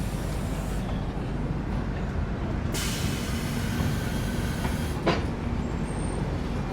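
A train approaching on the Delhi–Kanpur line at Kanpur Anwarganj station, a loud continuous rumble of wheels and carriages with a brief sharp squeal near the end, no talking.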